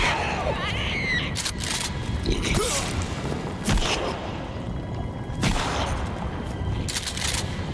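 Shotgun slug rounds fired in the survival video game Sons of the Forest, a few sharp blasts spaced irregularly over a noisy, rumbling game backdrop, with no talk.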